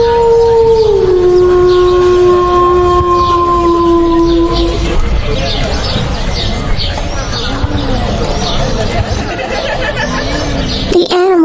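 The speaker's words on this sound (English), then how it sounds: "the jackal also got up and howled loudly" A jackal howls loudly in a cartoon forest, giving a long wavering wail that slides in pitch for several seconds. Excited animal chatter and commotion follow, ending in a brief sharp cry.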